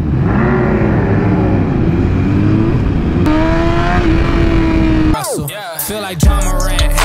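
A BMW S1000RR motorcycle pulls away on a ride around Tampa Bay, its engine note climbing loudly through gears with a sharp shift partway, before wind buffets and rustles take over toward the end.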